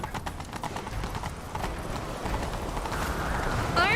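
Rapid rhythmic hoofbeats of a horse galloping in the video game The Witcher 3, steady and fairly loud, growing a bit louder toward the end.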